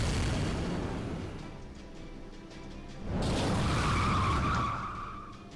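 Car tyres skid in the Fate/Grand Order video game with a steady gritty scraping that surges louder halfway through into a sustained squeal, then eases off slightly at the end.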